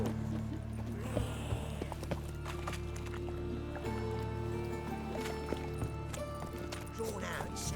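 Roach, the horse in The Witcher 3 video game, clip-clops along in a steady hoofbeat rhythm beneath a continuous game music and ambience bed, with voices talking over it.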